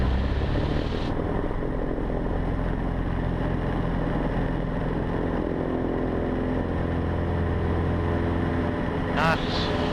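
A Cessna 150 engine roars steadily at full take-off power, a loud, continuous propeller drone heard from inside the cockpit, with a voice speaking over it.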